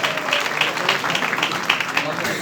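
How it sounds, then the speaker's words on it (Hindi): An audience at a Christmas celebration gathering applauds with a dense, continuous patter of many hands, moderately loud, while a voice speaks over it. "सबके लिए तालियां बजाएं जी"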